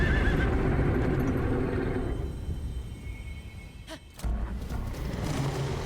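A horse in the video game The Legend of Zelda: Breath of the Wild gives a loud, drawn-out whinny near the start, then snorts sharply toward the end, with hoof clops and game ambience.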